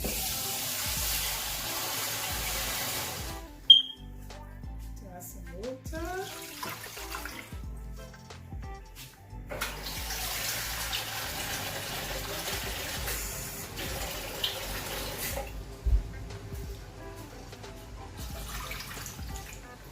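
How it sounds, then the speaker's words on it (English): Water runs and pours into a cooking pot of bitter leaf soup in two stretches, with a pause and some clinking between, while a voice speaks briefly. "So I'm just gonna add some water."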